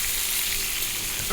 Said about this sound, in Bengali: এক চুলায় মাছ ভোনার জন্য পেঁয়াজ মরিচ ভাজতেছিলাম